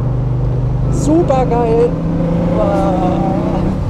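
A 1972 De Tomaso Pantera with a 350 hp 5.8-litre V8 gives a steady, low engine drone heard from inside the car, while someone speaks briefly over it.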